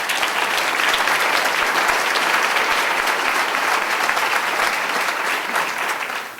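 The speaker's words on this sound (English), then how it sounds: "So let's give Alignment Rockford a round of applause." Audience applause at an education outlook presentation, many hands clapping in a full, even, continuous roar that tapers slightly at the end.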